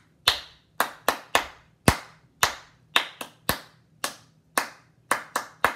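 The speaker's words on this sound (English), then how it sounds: "All claps" A class clapping hands in a sing-along, about fourteen sharp, crisp claps in a loose steady rhythm with short gaps, close and alone with no voices.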